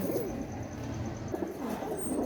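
At a pigeon farm, pigeons coo in soft, repeated rolling calls close by, overlapping each other against a low background hum.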